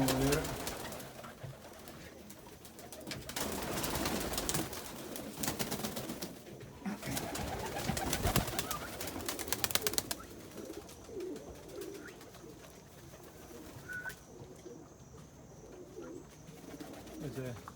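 Mookee pigeons coo in a loft amid rustling and wing movement, the calls fairly quiet and intermittent, with someone talking over part of it.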